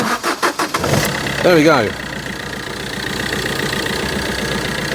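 A Fiat Doblo Cargo van engine cranks in a few quick rough bursts, catches, and settles into a steady, close idle, with a voice speaking briefly over it.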